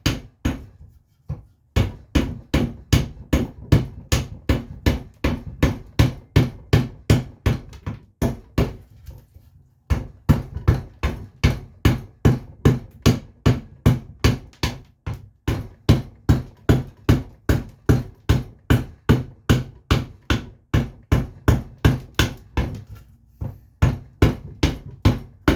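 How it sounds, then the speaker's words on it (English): A freshly sharpened hand adze chops into wood in a steady run of sharp, evenly spaced strikes, close and loud, with a brief pause near the start and another around the ten-second mark. "you can see me going ahead and using this Adze"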